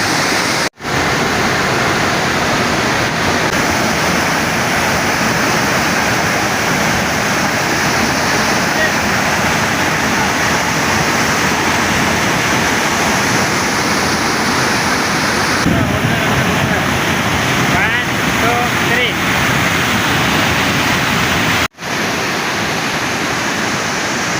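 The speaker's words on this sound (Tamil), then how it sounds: "அங்கே ஒரு ஃபால்ஸ் இருக்குது." Kaviyam waterfall in the Kalvarayan hills roars as a loud, dense, unbroken rush of falling water heard from close by, with only two brief dropouts in the steady noise.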